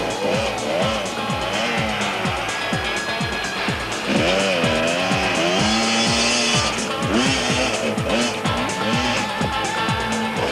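KTM enduro motorcycles at the 1995 Winterberg Enduro clawing up a steep incline, engines revving hard in repeated rising and falling bursts, loud and close, with several bikes overlapping.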